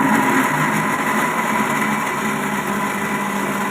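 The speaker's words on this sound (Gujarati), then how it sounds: "ડુંગળી અને ટામેટાને મિક્સરમાં ગ્રેવી કરી દઈશું।" A mixer grinder blends onion and tomato into a gravy paste, a loud, steady high-pitched motor whine that holds without a break, close up and with no voices.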